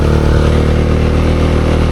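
Motorcycle on a steep hill road toward Keokradong, its overheated engine labouring in gear with a loud, steady close-up drone.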